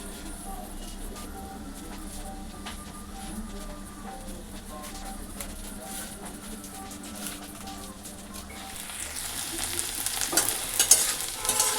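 A pot of unseasoned lentil dal bubbles on the stove in a home kitchen, giving a soft, continuous simmering crackle that grows a little louder and busier toward the end.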